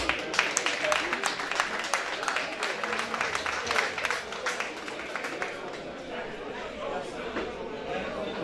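Audience applause and cheering for bassist Joe Charles, a sustained crowd clapping at moderate distance with dense, even texture and some chatter mixed in.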